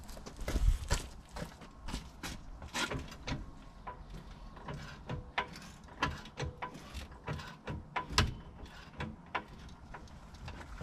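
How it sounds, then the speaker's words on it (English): A jack lifting a 1962 Dodge Dart 440 barn find, a long run of irregular metallic ratcheting clicks and clunks with a few heavier knocks, moderately close and without speech. "Now I should be able to just jack it up."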